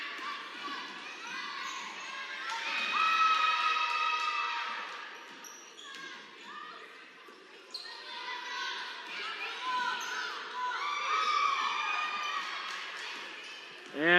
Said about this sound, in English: And the crowd goes wild for Emma Johnson